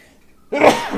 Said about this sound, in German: Ich meinte niesen, Entschuldigung.